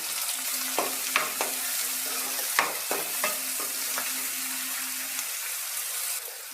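Chopped onions hit hot oil with mustard seeds, chana dal and urad dal for a bitter gourd palya, giving a steady moderate sizzle broken by several sharp clicks and scrapes of a spoon stirring the pan; no speech.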